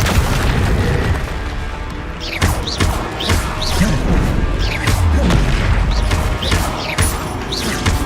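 Spell blasts and explosive impacts from the Hogwarts Legacy video game land in a steady, loud barrage of booms and crashes, with brief whooshing swells over continuous dense combat noise.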